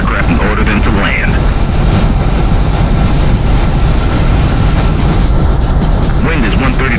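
Fighter jet taking off in the Ace Combat video game, a loud continuous engine roar and rushing wind filling the whole stretch, with a voice speaking over it.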